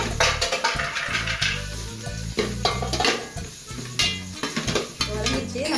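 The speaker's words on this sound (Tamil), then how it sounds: "இது கூட நம்ம எடுத்து வச்சுருக்க வெங்காயம், பீன்ஸு, கேரட் ஒரு வதக்கிக்குவோம்" Onion, beans and carrot sautéing in a hot pan, with a steady sizzle broken by repeated stirring scrapes and clinks of a utensil against the pan, close and continuous with no talking.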